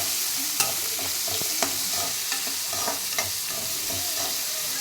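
Two medium onions, finely chopped, sizzle in a hot pan with a steady frying hiss, while a utensil scrapes and taps the pan every second or so as they are stirred.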